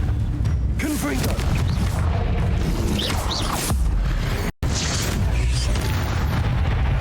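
The Confringo fire spell in Hogwarts Legacy bursts into loud booming blasts over dense, crackling battle noise and mechanical clatter, near and sustained, with a brief drop to silence midway.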